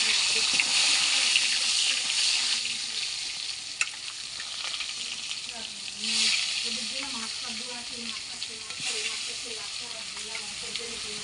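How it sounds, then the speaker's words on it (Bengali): Rupchanda fish fries in hot mustard oil in a kadai, a dense continuous sizzle with bubbling surges and a brief knock, while a voice murmurs faintly underneath. "মাছগুলো আমি ভালো করে এবার ভেজে নেব।"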